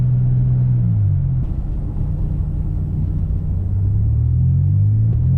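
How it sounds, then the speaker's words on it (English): A car engine drones steadily at road speed, a loud continuous low rumble with a slowly shifting pitch and no talking over it. "Yep, the engine is still working perfectly fine."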